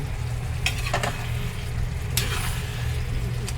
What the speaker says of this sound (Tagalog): halo-halo lang natin ng konti para pumasok yung sauce dun sa ating bangus